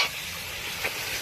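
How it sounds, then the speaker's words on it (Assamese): Meat frying in a kadai over onions browned to a golden colour, a short burst of soft, steady sizzling close by with no talk. "এয়া মাংস দি দিলোঁ আমি"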